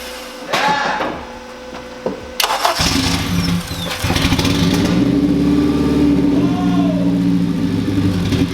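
A tuned turbocharged 8th-generation Honda Civic engine cranks and catches, then settles into a loud, steady, rough idle close by, after some clanks and handling noises.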